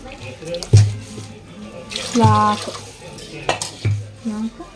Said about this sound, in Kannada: ನಮ್ಗೆ ಇನ್ನೊಂದು ಸ್ವಲ್ಪ ಮೆತ್ತಗಾಗಬೇಕಂದ್ರೆ 6 ಗ್ಲಾಸ್ ಹಾಕೊಂಡ್ಬಿಡ್ರಿ ನೀರು